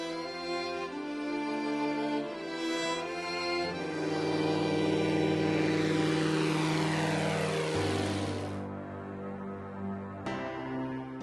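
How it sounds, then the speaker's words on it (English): A Cessna Turbo Stationair propeller plane flying over South Africa, its engine drone loud and steady, rising in intensity as it passes, then abruptly cut off near the end. "Then there's planes like this Cessna Turbo Stationair."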